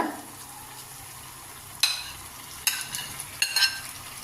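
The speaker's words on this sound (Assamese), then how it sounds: "মই এতিয়া ধুনীয়াকৈ ভাজি পেলাই ভাজোঁ আৰু 5 মিনিটমান" Paneer, peas and potatoes fry quietly in a pan while a spoon stirs, scraping and clinking against the metal in a few sharp, close knocks over a soft sizzle.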